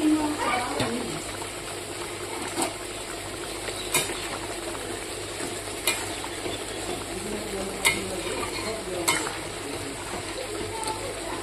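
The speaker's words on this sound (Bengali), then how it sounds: "এবার আমি ভেজে রাখা মাছগুলোকে দিয়ে দেবো এখানে।" Fried fish pieces going into a simmering fish curry, with soft bubbling, light stirring and faint sizzle running steadily throughout, broken by several sharp utensil clinks against the pot.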